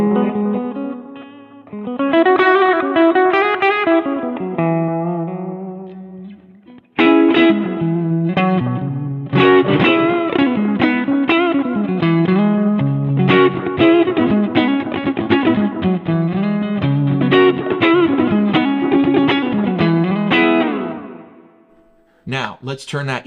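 Clean electric guitar played through an amp modeler with the overdrive pedals switched off, sounding as a continuous strummed and picked passage, loud and steady with short pauses near the start and end.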